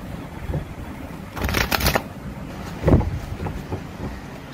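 Tarot cards are shuffled close by in two short riffling bursts against a steady breezy background hiss, with no talking.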